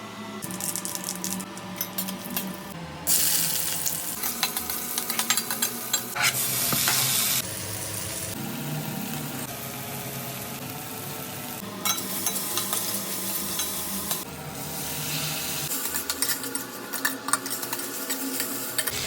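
Chayote (chow chow) vegetable curry fries and sizzles steadily in a pan, with a spoon repeatedly stirring and scraping the metal in bursts, close and fairly quiet throughout.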